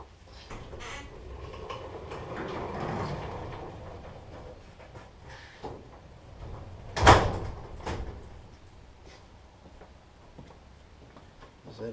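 A shed door swings shut with one sharp, fairly loud knock partway through, over a quiet room hum and faint shuffling.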